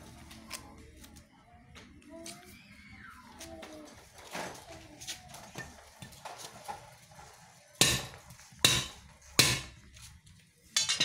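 An Arabic-style custom sword strikes an original size-7 steel nail in a hardness test, giving several sharp, loud metallic hits near the end that follow quieter tapping and handling noises.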